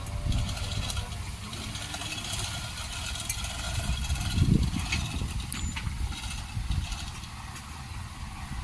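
An engine runs steadily after being fitted to a vehicle during a truck rescue in Mexico, Pampanga, a continuous low rumbling idle that holds at a constant level with a slight swell midway, heard alone without talk.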